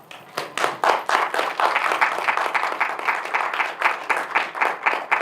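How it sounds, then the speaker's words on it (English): Audience applause at an educational leadership conference, a dense, steady wash of many hands clapping that swells quickly and holds for about five seconds with no talk over it. "I think the fired pastor must get a bigger round of applause than that"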